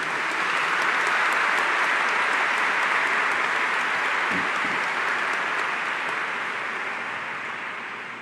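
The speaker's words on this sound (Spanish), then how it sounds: "Le damos un aplauso a Santa Lucía." Congregation applauding for Santa Lucía, the parish patron saint, during a church anniversary celebration; dense, sustained clapping fills the space evenly and tapers slightly toward the end.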